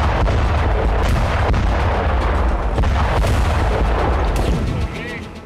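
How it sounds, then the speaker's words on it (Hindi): Israeli air strike explosions hitting Hezbollah positions, heard as a dense, continuous loud rumbling barrage with repeated booming thuds that fade slightly at the end. "जिसके जवाब में इजराइल ने हिजबुल्लाह के ठिकानों पर एयर स्ट्राइक कर डाली"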